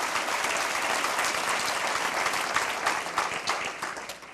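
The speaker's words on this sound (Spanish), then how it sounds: "Dale un aplauso al Señor si está así dispuesto." A church congregation bursts into loud, dense applause during a sermon, many hands clapping together in a full, energetic wash that swells slightly with rhythmic accents before easing off at the end.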